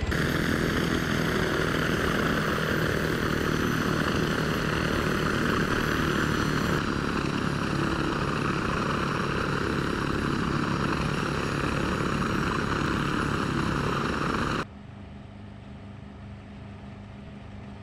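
Steady rotor and engine drone of unmanned combat helicopters in ARMA 3, loud and continuous with a dense mechanical hum, dropping abruptly to a quieter background near the end.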